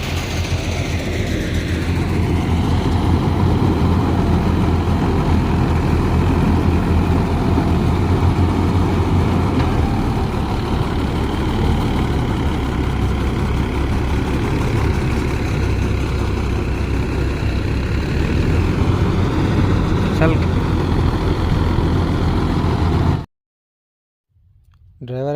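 A combine harvester idles at the foot of a field bank it is failing to climb, its engine rumbling loud and steady at close range before cutting off abruptly near the end, with people talking over it.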